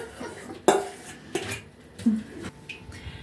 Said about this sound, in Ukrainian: Трошки калатаю ложкою.